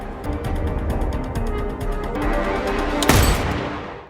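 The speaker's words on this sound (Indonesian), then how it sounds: "tetap saja tembakan Chris melenceng 2 meter dari body si Dragon" A single loud sniper rifle shot rings out sharply near the end of a tense film scene, preceded by a steady rhythmic ticking and low background rumble, with no talking.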